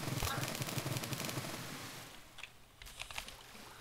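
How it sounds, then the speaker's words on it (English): A water cannon in a Minecraft Avatar mod fires like a minigun, a rapid rattling stream of shots at moderate level that thins out partway through, then returns in a short later burst. "Then you have the water cannon, which it's just basically a minigun."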